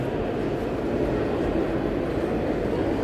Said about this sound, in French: Ça c'est le RER.